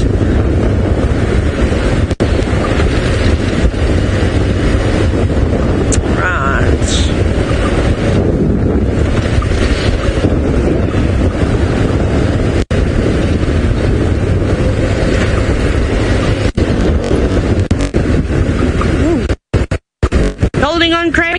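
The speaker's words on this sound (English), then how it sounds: "the wind is about to blow my hat off of my head too" Strong wind buffeting the microphone during an open-vehicle sunrise safari drive, a loud continuous roar that fills the whole stretch, with faint voices beneath it.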